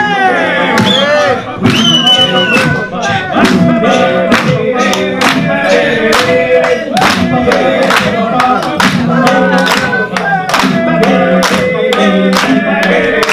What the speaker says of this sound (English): Let's get a clap going!